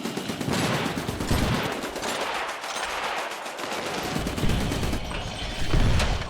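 Rapid gunfire aimed at a monster in the video game Iron Brigade, a loud, continuous machine-gun rattle with dense overlapping shots and occasional heavier bursts throughout.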